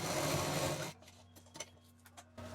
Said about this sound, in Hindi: अब यहाँ ऊपर से इसको हम सिलेंगे, फिर यहाँ पर एल शेप में सिल देंगे।